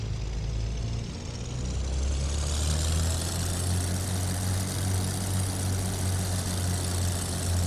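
The twin engines of a Beechcraft Baron in a flight simulator run at 1700 RPM, a loud steady propeller drone with a deep low throb and a rising whine, continuous throughout.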